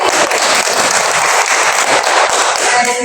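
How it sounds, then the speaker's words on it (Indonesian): Children applauding themselves at an environmental care gathering in Lengkong, with a dense, steady burst of clapping that fills the whole moment without a voice over it. "mari tepuk tangan untuk diri kita sendiri"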